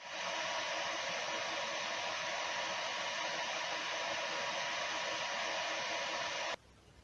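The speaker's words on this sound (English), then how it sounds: "it's time to test a noise level. First you're gonna see original fan and then Noctua" A loud, steady whooshing stock cooling fan hum on a Greenception GC-4 fills almost the whole clip, then cuts to a much quieter whir from an upgraded Noctua fan near the end.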